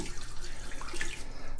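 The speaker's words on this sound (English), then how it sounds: "This recipe calls for a cup of water that we're going to put on top there." A cup of water is poured over eggs in an Instant Pot, making a continuous, close splashing and gurgling rush that stays steady throughout with no talking.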